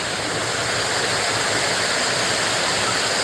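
A small stream flowing beside a road makes a loud, dense, continuous rush of water that stays steady and close throughout, with no voices.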